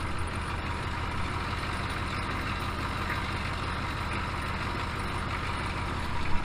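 An M1031 military truck's diesel engine runs at a steady throttle, a dense, even rumble close by and unbroken for several seconds without talk.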